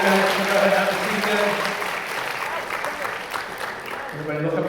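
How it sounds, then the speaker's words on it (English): Audience applause fills the hall at a high school stage hypnosis comedy show, a steady broadband clatter of many hands held for several seconds, with tonal music or voices faintly underneath. "How about a big round of applause for our Hypnotized orchestra?"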